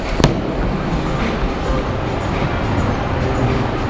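Hard-thrown bowling ball crashing into pins in a bowling alley: a sharp loud impact near the start, then a continuous rumbling clatter that carries on through the rest.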